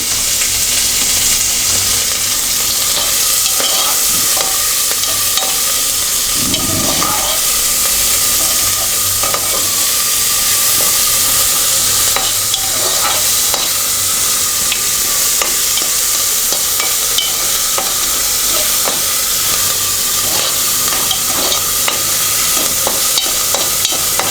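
Meal maker chunks for a tomato curry fry and sizzle steadily in a pan, with a spoon scraping and stirring through them, loud and close with no talk.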